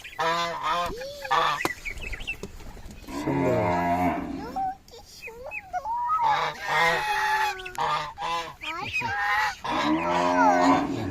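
Geese honk repeatedly on a small home farm that also keeps ducks and pigeons, the calls loud and close, overlapping other farm animal sounds, with a person briefly speaking.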